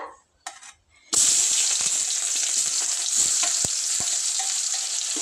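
Onion, red chilies and curry leaves tipped into hot oil for tempering, a couple of faint knocks then an abrupt loud close crackling sizzle that continues steadily with a few stir clicks.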